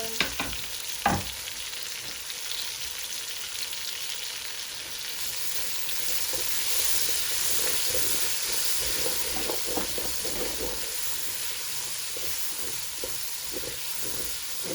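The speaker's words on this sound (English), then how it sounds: "Going to fry up all that onion." Onion and peppers fry in a pan for a brown chicken stew, giving a steady, close sizzle with a few sharp stirring knocks early on and no talking.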